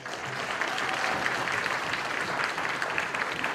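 An audience applauds steadily at a political TV show event honouring Edmonton Millwoods guests, a dense, even clapping that fills the moment without pause.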